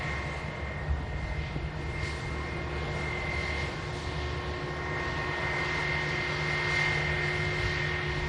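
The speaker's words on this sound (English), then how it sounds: "Lufthansa, just taxiing past us here at the runway visitor park." A Lufthansa airliner taxis past an airport runway visitor park at Manchester Airport, a steady, loud jet engine drone with a sustained whine that holds throughout.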